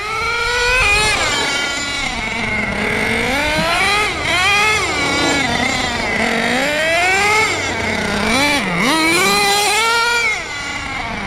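A restored HPI Savage X 4.6 nitro RC monster truck engine runs rich and loud, its high-pitched whine rising and falling as it revs up and down repeatedly, close by.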